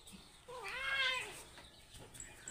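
A pet cat gives a single drawn-out, rising-then-falling meow, close and fairly clear, with a quiet room behind it.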